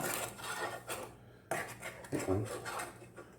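Spoon scraping and clattering against a pan while a boiling chocolate pecan praline mixture is stirred, with irregular rasping strokes and a couple of louder knocks, close by, with no talk.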